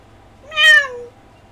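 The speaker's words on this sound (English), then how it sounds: "The transceiver cat meows sweetly in reply." A small black kitten in a video game gives a single clear, sweet meow, rising then trailing off, close and alone against quiet background.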